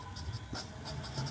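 Pen scratching out a line of a class 10 polynomial maths solution, soft close strokes in a quick steady run.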